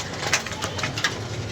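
Pigeons kept in a loft coo softly nearby, giving a few low, throaty calls over a steady background hiss, with no voices.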